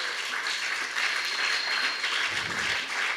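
A congregation at an evangelical gathering applauds in a steady wash of clapping that holds at an even level throughout, with no voices standing out.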